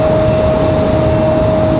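American Airlines Airbus A319 departing the airport, a steady loud broadband jet roar holding evenly throughout with a faint constant whine above it, no voices.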